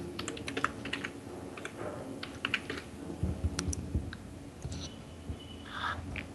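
Typing on a computer keyboard, irregular bursts of close key clicks and taps with brief pauses, no voices.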